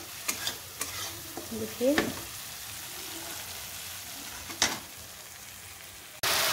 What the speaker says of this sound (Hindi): मसाला को अच्छे से फ्राई कर लेंगे